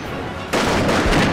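Matchlock guns fire a volley in the battle strategy game Nobunaga's Ambition: Taishi, starting as a sudden loud crackle of overlapping shots after a brief hum of background noise.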